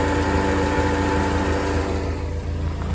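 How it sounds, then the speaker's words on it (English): A sports car's idling side-pipe exhaust gives a steady, low rumble with a deep, even pulse, close by and continuous, with no talking over it. "So let's have a listen to that idle exhaust."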